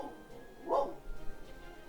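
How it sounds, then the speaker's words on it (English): A dog barks once indoors at moderate distance, a short single woof followed by faint low shuffling in a quiet room. "Sorry about the dog barking."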